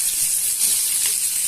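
Thinly sliced potatoes fry in hot oil, giving a constant bright sizzle and hiss up close. The sound stays steady and even with no speech.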